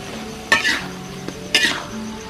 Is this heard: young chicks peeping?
no